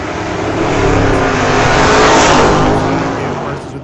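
Drag race cars, a Duster and a Roadster, launching off the line with a loud, sustained engine roar that swells to a peak and then fades slightly, heard close up.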